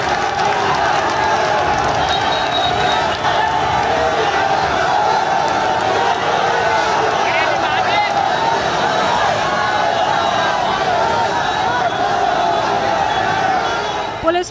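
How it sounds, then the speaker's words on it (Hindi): A dense crowd of protesters chants slogans from mosque rooftops in Saharanpur, a loud continuous roar of many voices that holds steady throughout. "ये देखिए, मस्जिद की छतों पर चढ़कर भीड़ नारेबाजी कर रही है।"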